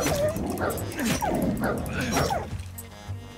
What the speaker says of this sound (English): Uh oh there's a lot of dogs.